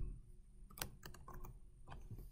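Keystrokes clatter on a computer keyboard while a starting point is entered into a map, a quiet close run of uneven taps and clicks.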